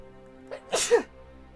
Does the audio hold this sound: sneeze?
yes